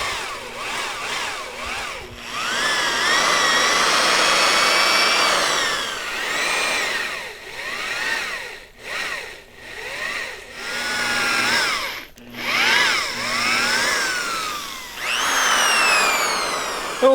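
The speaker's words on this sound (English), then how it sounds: "let's keep drilling here" A power drill bores holes in wood, its motor whining up and down in repeated bursts with brief pauses between them, loud and close throughout.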